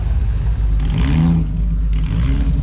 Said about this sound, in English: Rev Battle